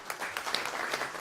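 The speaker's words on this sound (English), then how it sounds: "Yep, round of applause." Brief round of applause from an audience at a panel event on patents and innovation, a quiet patter of hand claps with no talk over it.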